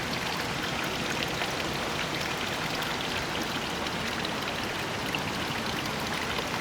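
Steady rushing of a stream's flowing water, a continuous broadband wash with no breaks, moderately loud and close, with no voices over it.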